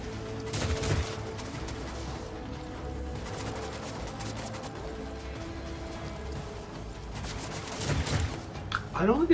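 Gunfire in the video game Warhammer 40,000: Rogue Trader, a dense crackling fusillade that runs steadily through the scene with louder bursts near the start and end, mixed under game ambience.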